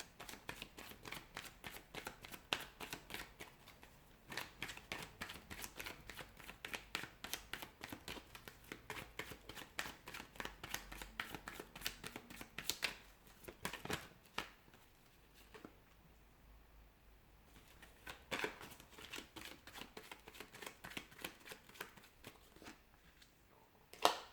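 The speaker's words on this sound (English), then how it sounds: "give the cards a shuffle and begin" Playing cards riffle and shuffle over and over in quick, crisp bursts, close by, with brief pauses between rounds and no talking.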